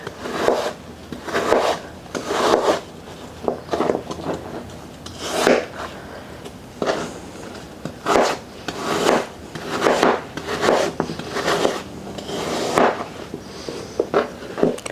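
Apples being sliced about 1/8 inch thick with a knife, a series of rhythmic rasping cuts roughly every second, close and clear with no talk.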